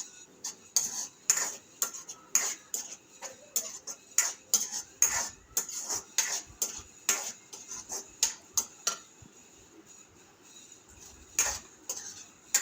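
A utensil stirs leafy greens cooking down in a pan on low heat, producing repeated sharp scraping clacks in an uneven rhythm with a short pause before a final few strokes.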